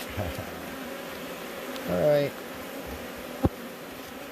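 A bee buzzes briefly at mid-distance during work on prying up floorboards, a short rising drone over low background noise, followed by a sharp knock; a voice speaks briefly.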